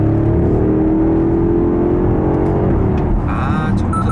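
A BMW X5 M50i V8 in Sport Plus with manual shifting, engine roaring loud and close as revs climb steadily then drop off, with a throaty rumble underneath.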